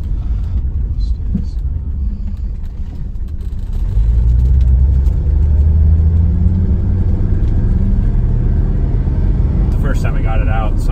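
A car engine, on its first run after being brought back to life, rumbles at idle and then revs up into a louder, rising drone, with a brief burst of noise near the end.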